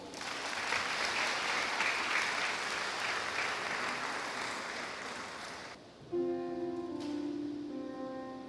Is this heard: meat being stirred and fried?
no